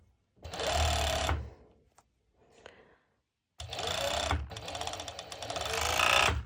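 A serger stitches a lightweight, non-slippery fabric while sewing a twisted-knot top, whirring loudly in two runs separated by a quiet pause, the second burst longer and building toward the end.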